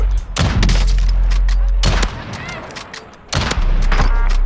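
Gunfire from the video game Warzone comes in three loud, sharp bursts about 1.5 seconds apart, each dropping into a quieter tail before the next shot.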